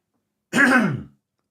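A single short, harsh throat clearing, close and loud, lasting about half a second before silence.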